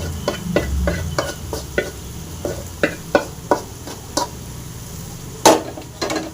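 Spoon stirring tomato into frying ginger-garlic masala for a prawn dry fish gravy, with a dozen or so distinct scraping knocks against the pan over a low sizzle, close and fairly loud, no talking.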